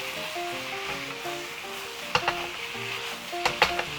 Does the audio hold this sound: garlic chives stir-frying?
yes